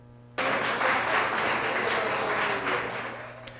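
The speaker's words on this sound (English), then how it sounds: "The Hawks Nest was full of cheering and living each moment like they were at the game." A crowd of fans at a Toronto Blue Jays watch party in a campus lounge cheers and claps in a sustained roar that swells then gradually fades, heard from within the room.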